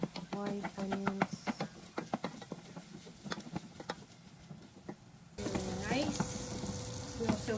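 Garlic and white onions frying in melted butter and olive oil, a close crackling sizzle with scraping and clinking of a utensil in the pan, the sizzle swelling louder in the final seconds.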